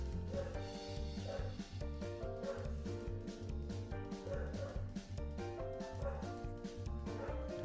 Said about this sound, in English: Goodness, the barking.